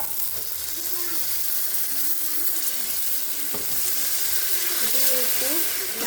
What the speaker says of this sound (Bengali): এখন আমি অল্প করে পানি দিয়ে দেবো।